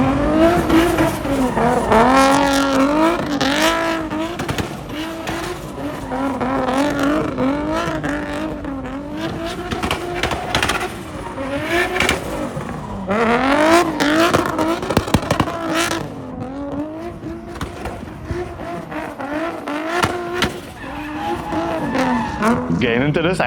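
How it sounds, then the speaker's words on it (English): A Nissan Laurel drift car with an RB engine revs hard and sweeps through rising and falling engine notes with tire squeal, loud and continuous, sometimes heard under talk. "All I know is I love the sound of RB."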